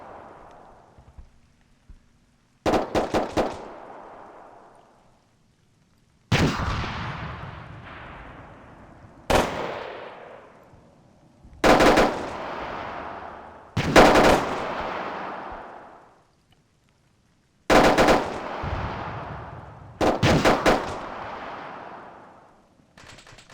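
Artillery and machine-gun fire in the military game ArmA 3: sharp bursts of rapid automatic shots, each followed by heavy booming impacts that roll and decay, repeating at intervals with quiet gaps between them.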